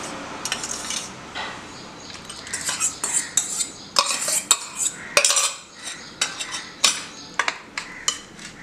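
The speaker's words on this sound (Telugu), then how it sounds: "ఇప్పుడు ఒకసారి దీన్ని మనం ఫస్ట్ బాగా కలిపేసుకుందాం" Rice mixture stirred in a metal pot with a utensil, giving steady scraping and clinking strokes, close and fairly busy, with no talking.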